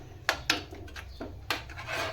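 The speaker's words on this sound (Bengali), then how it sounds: "এটা এইভাবে অনবরত নাড়তে হবে, নাড়তে নাড়তে সম্পূর্ণ শুকিয়ে নিতে হবে।" A spoon scrapes and stirs a sweet filling for honey pitha in a pan as it dries, with several quick, close rasping strokes in an uneven rhythm.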